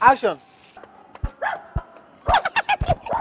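A dog barks and yips in short bursts, first a few scattered barks, then a rapid cluster near the end, with people speaking briefly around them.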